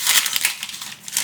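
A parcel's plastic packaging is torn open close to the listener, with a short burst of crinkling and crumpling rustles.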